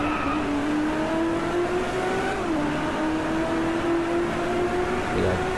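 A Volkswagen Beetle engine in a driving video game hums at a steady, continuous drone with slight pitch rises, loud and unbroken throughout with no talk.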